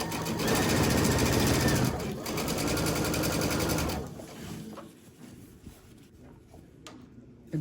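A sewing machine stitches T-shirt quilt blocks together, a loud, fast mechanical whirring chatter for about four seconds with a short pause, then stopping abruptly, leaving faint handling noises and a quiet room.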